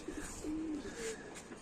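A pigeon coos once or twice close by at a pigeon farm, a soft low throaty call over quiet background hiss.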